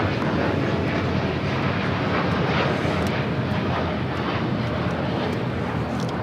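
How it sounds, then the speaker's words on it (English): An American Airlines Boeing 787-8 Dreamliner takes off from the south side of LAX, a steady, loud, broadband jet roar sustained throughout with some wind buffeting. "American Dreamliner taking off here on the south side."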